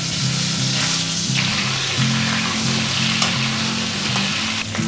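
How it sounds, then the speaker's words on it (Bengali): Pointed gourd frying in the oil left from frying fish gives a loud, dense, continuous sizzle close by, steady throughout with no talking. "মাছের তেলে পটলটা ভেজে নেব।"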